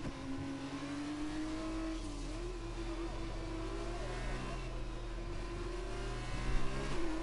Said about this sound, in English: Evan does pass a slow moving F2 car on the straight